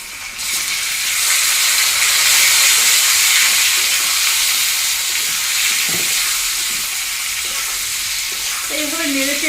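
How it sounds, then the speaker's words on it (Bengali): Pieces of elephant foot yam sizzle loudly in hot oil tempered with cumin seeds, a dense continuous hiss close up with occasional stirring scrapes and a brief squeaky sound near the end. "এইভাবে নেড়ে চেড়ে ওলটাও একটু ভাজা ভাজা করে দিচ্ছি।"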